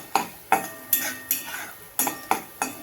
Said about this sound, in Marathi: आता हे सुकं खोबरं मी किसून घेतलेलं आहे, ते पण टाकते. छान असं परतून घेते.